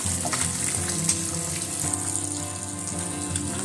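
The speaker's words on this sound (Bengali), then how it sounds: "মাছগুলোকে এপিট ওপিট করে ভেজে নিচ্ছি" Steady crackling sizzle of thin kajari fish frying in hot oil, continuous and close, with no voices.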